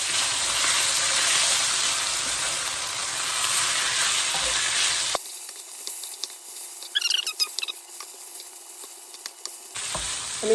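Beef pieces browning in a pan for a spicy curry, a loud steady sizzle and fry hiss for several seconds, then a quieter stretch with faint scraping and clinks before the sizzle swells again.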